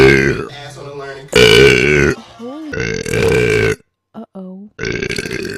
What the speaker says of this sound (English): I need to burp again.